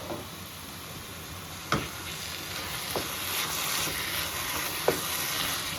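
Carrot halwa is roasted in a pan to dry out its leftover moisture. It makes a steady soft sizzle with occasional spoon clinks and scrapes, close and fairly quiet, with no talking.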